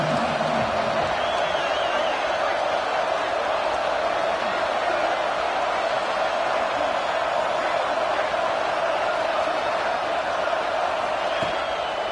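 A stadium crowd roars steadily at a college football game between Oregon and Ole Miss on third down, a dense loud wash of cheering that lasts the whole stretch, with a voice over it.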